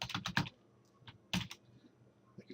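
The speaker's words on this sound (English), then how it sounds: "type it into the title tag." Keyboard typing, a quick cluster of close, quiet clicking keystrokes, a pause, then a few more isolated key taps, with no voices.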